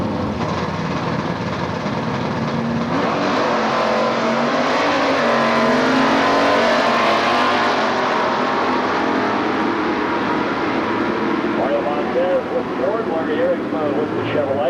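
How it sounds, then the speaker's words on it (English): At an NHRA Gainesville drag race, a 354 '69 Camaro and a 429 Mustang Mach 1 roar down the strip, a loud sustained engine blast that rises and then fades. An announcer talks over it. "With the Chevrolet, 429 Mustang Mach 1 takes the win light for Montez."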